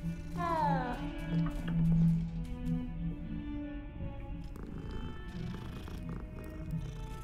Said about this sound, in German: Und noch eine Katze.